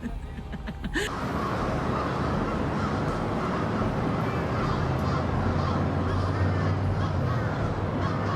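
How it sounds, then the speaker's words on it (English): A large flock of birds at a train station cawing and calling over each other in a dense, continuous din, loud and close, after a brief quieter moment at the start. "Birds took over the entire train station."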